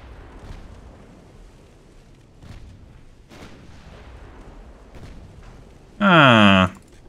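Warship main guns firing armour-piercing shells in Ultimate Admiral Dreadnoughts, a naval video game: a few muffled low booms, then one loud, harsh blast near the end.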